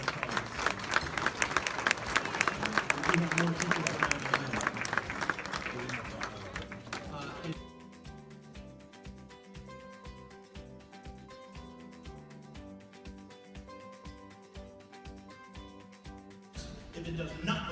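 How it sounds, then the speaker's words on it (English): Loud, dense applause fills a school gathering as faculty and staff stand to be recognized. It carries on for several seconds before fading out under a person's voice and a steady rhythmic musical backing. "Please stand up, please, just to give you a round of applause."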